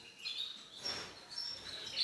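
Small birds chirp close by in short, high, bright calls that come and go over a couple of seconds against a faint, airy background.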